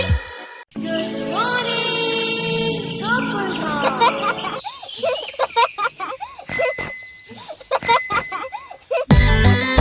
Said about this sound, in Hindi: साइकिल मेरी सरर जावे, ट्रिंग ट्रिंग घंटी बजाती जावे।